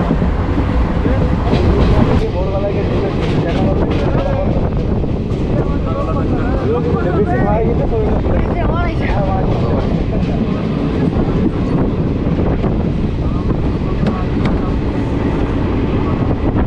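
Passenger train on the Sealdah–Lalgola line near Jiaganj, a loud continuous rumble of wheels on rails with rhythmic clickety-clack and wind buffeting, heard from inside the moving train the whole time.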